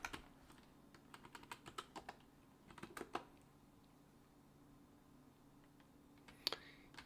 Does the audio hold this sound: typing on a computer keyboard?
yes